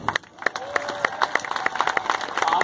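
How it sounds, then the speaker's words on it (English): An audience at a Stockholm unicycle show gives a round of applause, sharp individual claps building into a steady, rising patter, with some voices mixed in. "can you show me a round of applause?"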